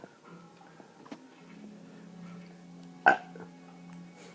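A single loud, abrupt human burp stands out near the end, following a quiet stretch with faint background noise.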